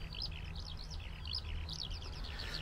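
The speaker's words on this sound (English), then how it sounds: "What is that bird doing?" Repeated bright chirping bird calls in short phrases on a countryside walk, fairly clear over a low steady rumble of wind or distant traffic, with no talking.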